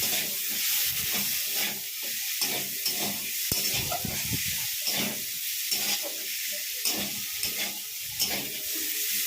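Tomato pieces, boiled chickpeas and chopped green chili fry in a pan with a steady hiss, broken by repeated scraping stirs and clinks of the spoon.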